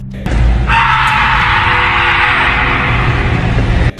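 A terrifying scream echoing out of a forest, loud and sustained for several seconds over a low rumbling background, ending abruptly.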